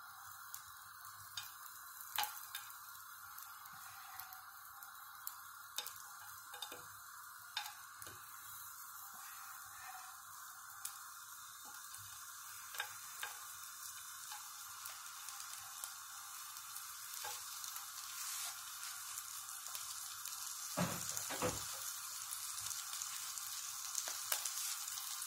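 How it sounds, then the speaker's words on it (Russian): Pieces of beef and bread sizzle steadily in a hot pan for a long stretch, with faint crackles and pops scattered through the frying. "В сковороду добавляем кусочки говядины"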